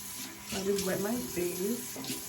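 Tap water runs into a sink for wetting the face during a skincare routine, a steady moderate splashing wash that fills most of the short stretch, with a faint voice mixed in.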